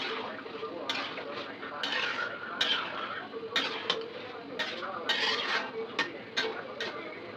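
Fish curry with potatoes and greens being stirred in a pot after ground cumin goes in, a run of sharp spoon-on-metal clinks and scrapes at uneven intervals over soft background clatter.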